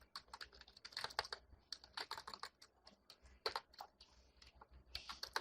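Close, quiet keystrokes on a computer keyboard rattle in quick irregular bursts while C# code is typed, with short pauses between runs of keys and no talking.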